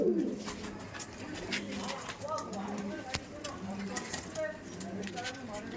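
Iranian Najradom pigeons cooing at a pigeon keeper's loft, soft repeated coos heard near, with people talking over them.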